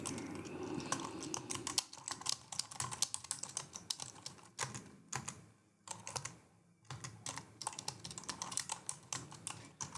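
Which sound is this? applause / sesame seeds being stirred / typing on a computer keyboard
typing on a computer keyboard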